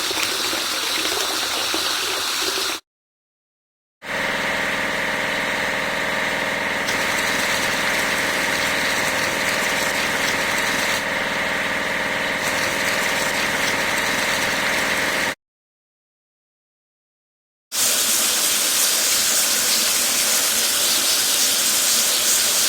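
A tractor being hosed down with a water sprayer in a vehicle-washing game, a continuous loud hiss and gush layered over a low idling hum, with two brief silences and a sharper spray at the close.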